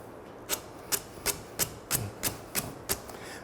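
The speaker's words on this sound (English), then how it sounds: "I'm going to do this flapping motion with my hand in the sandpaper" A wooden rafter-tail plug being hand-sanded with a flapping motion of sandpaper, giving nine crisp, evenly spaced slaps about a third of a second apart, close and clear with no talk.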